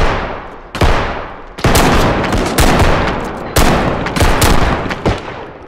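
Shotgun blasts in the video game Bodycam, fired outdoors in open woodland: loud, sharp booms close by, about six or seven shots spaced irregularly, each trailing off into a long ringing echo.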